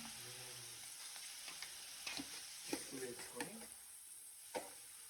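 Onions fry in a pan for a chicken curry, a soft continuous sizzle with a run of gentle stirring scrapes in the middle and end.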